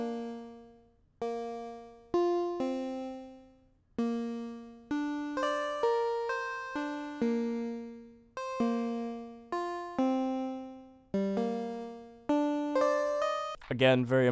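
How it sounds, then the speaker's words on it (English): A bright synth lead plays a flowing, emotional melody of sustained notes with no talking, ending in a short burst of noisier sound. "Then we have this counter lead,"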